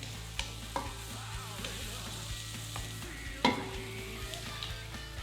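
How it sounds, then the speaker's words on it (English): Garlic and peppers sizzle steadily in a frying pan while a utensil stirs them, with a few sharp knocks and scrapes against the pan, one louder clatter partway through. "Add my garlic and peppers to the pan. Let's stir around."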